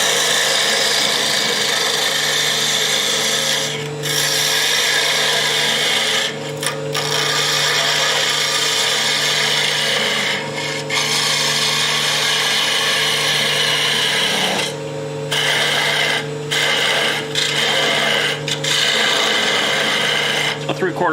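Spindle gouge cutting end grain on a wood lathe, hollowing and undercutting a cove at the bottom of the form: a steady, close scraping rasp over the spinning motor's hum, broken by several short pauses as the tool lifts off.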